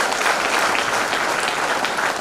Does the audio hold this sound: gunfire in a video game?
no